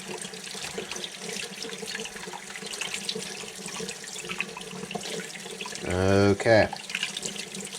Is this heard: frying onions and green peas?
no